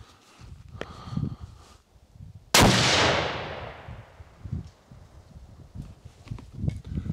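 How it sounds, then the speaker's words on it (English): A single sharp 6.5 Creedmoor rifle shot at a range, a loud crack with a long decaying tail, set among quiet handling noises and soft thumps before and after. "So just going to go ahead and shoot,"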